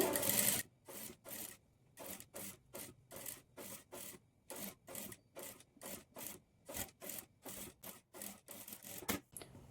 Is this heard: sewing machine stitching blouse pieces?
yes